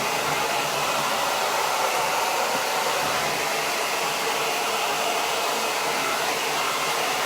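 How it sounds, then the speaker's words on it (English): A hairdryer blows loudly and steadily throughout, a constant broadband whoosh with no pauses and no talking. "This hairdryer is an absolute beast. It's so loud."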